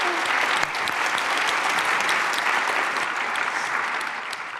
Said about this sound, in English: Let's get another round of applause for our panelists today